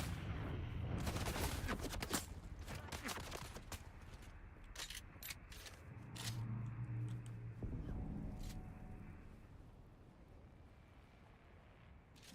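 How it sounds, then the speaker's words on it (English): Gunfire in the video game Dune: Awakening comes as dense bursts of quick shots in the first seconds, then sparser scattered reports fading toward the end, at a fairly low level. "Oh, somebody's shooting at me."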